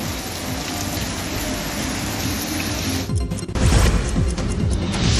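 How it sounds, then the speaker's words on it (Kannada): Heavy rain pouring down in the evening across a city, a steady broadband hiss with scattered hard smacks and splashes on surfaces, loud and continuous, swelling slightly near the end. "ನಗರದ ಹಲವೆಡೆ ಸಂಜೆ ಆಗ್ತಾ ಇದ್ದ ವೇಳೆ ಮಳೆಯಾಗಿದೆ"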